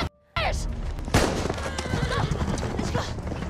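A horse whinnies once in a rising, shaky cry right after a brief silence. Loud rumbling commotion follows, with faint hoof-like thuds mixed into the noise of a dramatic scene from The Last of Us.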